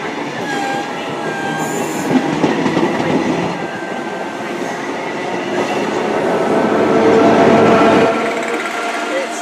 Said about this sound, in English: And also coming in is the 1409 service to London Liverpool Street from Norwich.